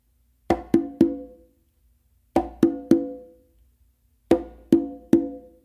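Hand-played conga and tumba: a close slap followed by two open tones with the dominant hand, repeated three times as a crisp triplet of sharp, resonant strikes with pauses between groups, alone and close.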